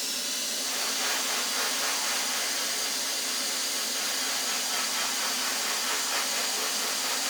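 A Dremel rotary tool spins a silicon carbide rubber wheel against a rock to polish it, giving a steady, close, loud high-pitched whine with airy hiss that runs unbroken and alone.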